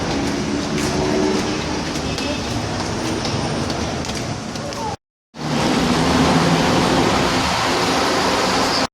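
Loud rumbling of a light rail train at Santolan LRT station in Manila, with clattering wheel noise, cutting out briefly midway before the heavy rolling roar resumes.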